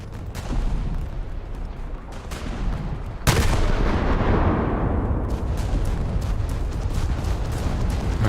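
Ship-mounted 37mm anti-aircraft guns fire continuously in World of Warships, a dense rattling barrage that jumps louder partway through and keeps roaring steadily to the end.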